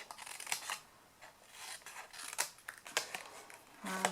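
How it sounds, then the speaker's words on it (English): Scissors snip wedges off the tabs of a card craft piece for a tinned candle box project, a string of close, crisp cuts and paper rasps with short pauses while the card is rotated. "So just cut some wedges off there, rotate, and cut the same again"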